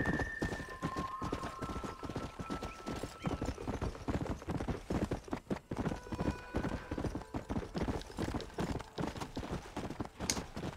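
Horse hooves clip-clopping at a steady gallop in the Red Dead Redemption video game, a dense continuous rhythm with a brief whinny near the start and game ambience behind.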